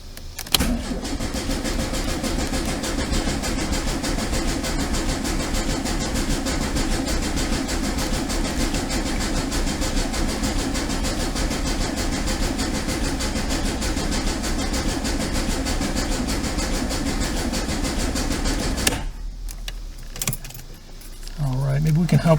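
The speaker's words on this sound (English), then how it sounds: "Let's do some cranking." Starter cranking a 1973 VW Super Beetle engine that fails to catch, a steady loud rhythmic churn held for nearly twenty seconds before stopping abruptly into quiet.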